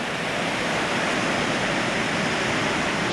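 A raging river in autumn woodland in Perthshire, Scotland, pours as a steady, dense roar of rushing water that stays loud and unbroken throughout, with no voices.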